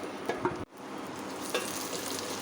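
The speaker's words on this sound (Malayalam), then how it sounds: "സവാള നന്നായിട്ട് വഴറ്റി കൊടുക്കാം." Sliced onions sauté in hot oil in a pot, a steady soft sizzle with a few light stirring scrapes near the start, continuing close and even without any talk.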